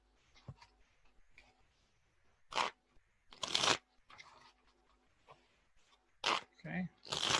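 Playing cards being shuffled by hand, several short crisp riffling bursts separated by pauses, close and clear, with a person talking quietly between them.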